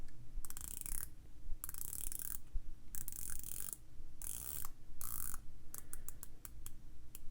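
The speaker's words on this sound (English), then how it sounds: "let's listen to the bezel action for a second on this thing" A San Martin SN0036 dive watch bezel rotates in bursts of rapid, crisp ratcheting clicks, close up and alone, with brief pauses between turns.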